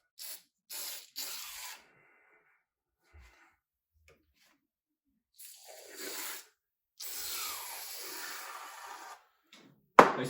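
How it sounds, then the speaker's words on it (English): Aerosol degreaser hisses from a spray can onto the engine of a 700hp Jaguar XFR in short, close bursts separated by silence, with one longer spray near the end. "I can go ahead and spray a little bit more too"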